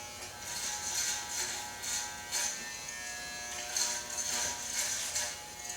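An electric hair clipper buzzes steadily through hair during a boy's summer haircut, its hum swelling and dipping as strokes change, close and fairly quiet, with no one speaking.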